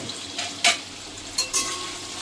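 Onion and black pepper frying in oil for a chicken curry, a steady close sizzle with a few sharp scraping stir strokes from the spoon.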